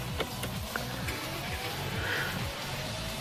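A Mercedes-Maybach with a 4.6-liter V8 engine drives along with a steady, low engine rumble and continuous road noise throughout.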